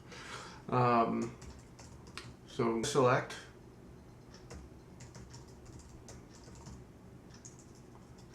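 Quick bursts of keyboard typing, light clicking keys at close range, with someone speaking briefly near the start.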